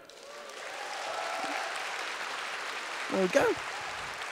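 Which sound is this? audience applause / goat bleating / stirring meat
audience applause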